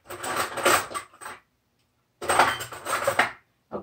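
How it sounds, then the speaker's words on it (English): A metal spoon clinks and scrapes briskly in a bowl, stirring cocoa and instant coffee into boiling water for brownie batter, in two close bursts of rapid clatter separated by a short silence. "I'm going to need a spoon to just mix it"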